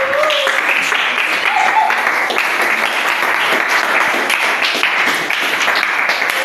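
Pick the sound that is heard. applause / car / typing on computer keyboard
applause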